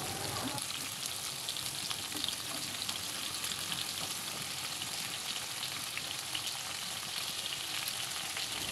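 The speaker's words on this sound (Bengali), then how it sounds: "এবার ঢাকনা দিয়ে ঢেকে এক পাশ ভাজার জন্য অপেক্ষা করব" Mixed vegetables fry under a lid in a covered wok, giving a steady, dense sizzle with fine crackling that holds evenly throughout, close up and with no talking.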